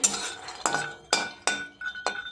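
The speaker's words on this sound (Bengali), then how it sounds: "চিনে বাদামটা একটু করে নেড়ে নিই" Peanuts are stirred with a metal spatula while dry roasting in a hot pan. Five or six distinct scraping clinks ring out at a slow, uneven rhythm, close and fairly loud, with no talking.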